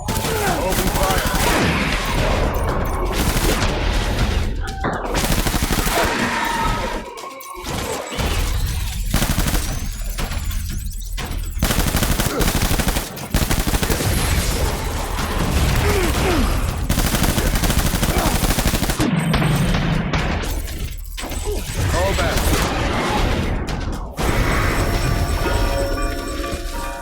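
Sustained machine gun fire and explosive crashes in a battle in the video game Death Stranding, loud and nearly continuous for the whole stretch, with shouted voices at points.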